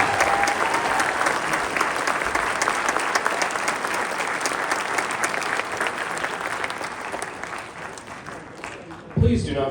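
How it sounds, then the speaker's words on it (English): An auditorium audience applauds a school region band performance, with steady dense clapping throughout and a brief louder burst near the end. "we get another round of applause for these fine students and our clinician, Mr. Jim Roll."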